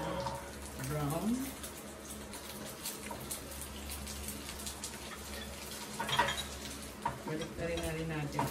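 Brown tikoy rice cakes being flipped in a frying pan over lowered heat, with soft clinks of utensil against pan and a faint sizzle beneath, while a person talks throughout.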